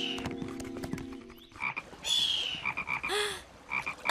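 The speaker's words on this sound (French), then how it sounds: "Un crapaud buffle." Deep, resonant croaks from a cane toad in a bayou, repeated in short uneven bursts over a busy background of other chirps and tones.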